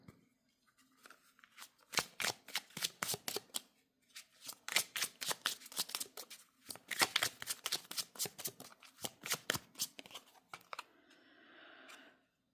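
Tarot cards are shuffled and drawn in a pick-a-card reading, a close series of quick riffling flutters and soft card slaps in irregular bursts, then a light rustle at the end.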